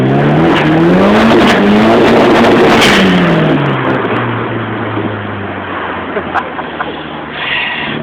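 A Nissan 200SX S15 with a turbocharged SR20DET engine revs hard, loud and close, its pitch climbing and falling in rising pulls before settling to a lower drone, with people talking over it.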